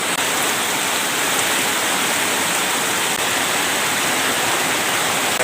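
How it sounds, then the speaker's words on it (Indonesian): Heavy rain pours steadily in a village in Kuala, Nagan Raya, Indonesia, a dense, continuous hiss of drops on surfaces, loud and close throughout with no voices. "Ini hujannya sangat lebat."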